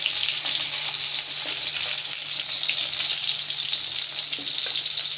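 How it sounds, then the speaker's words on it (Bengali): Eggplant slices, four or five at once, frying in oil in a wok, a dense, steady, loud sizzle close up with faint intermittent crackles and no talking. "বেগুন ভাজা, গরম গরম বেগুন ভাজা"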